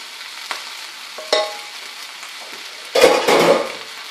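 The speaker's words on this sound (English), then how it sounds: "it's just a matter of folding the already cooked stuff into this rice and heating up the whole thing" Cooked ingredients folded into fried rice in a hot pan give a steady sizzle with a few scraping stirs and a louder burst of frying as food is turned, close and without talk.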